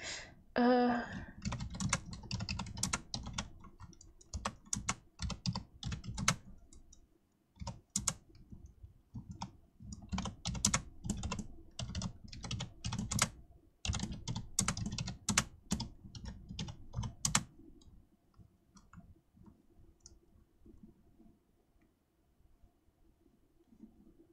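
A computer keyboard clatters as a message is typed during a live stream. Bursts of quick, close keystrokes come in uneven runs with short pauses, then fade to near silence over the last several seconds.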